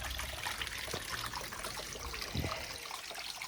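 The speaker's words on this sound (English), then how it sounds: "made it look like it had a tumbling waterfall coming down to the rocky area underneath" A garden fountain built as a tumbling waterfall spills over a rocky area with a duck ornament, giving a continuous, even trickle and splash of water at close range.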